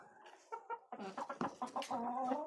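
Rooster and hens clucking close by on a farm, a few short calls first, then a denser run of overlapping clucks and cackles that grows louder and continues steadily.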